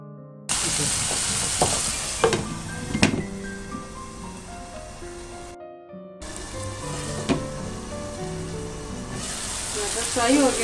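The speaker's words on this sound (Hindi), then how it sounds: "मटर को फ्राई करें।" Peas frying in oil for Chinese-style chicken fried rice, a continuous close sizzle with occasional stirring clatter and scrapes, with voices talking over it.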